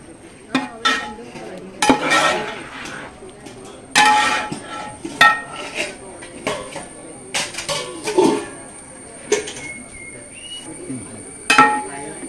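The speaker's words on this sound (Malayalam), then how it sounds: "വെന്ത കപ്പ എല്ലാം കൂടെ ഇളക്കി മിക്സ് ചെയ്ത് ചേർക്കുക" A spoon stirs cooked tapioca with crushed coconut in a metal cooking pot, giving repeated scraping clinks and knocks in uneven bursts, with someone talking over it.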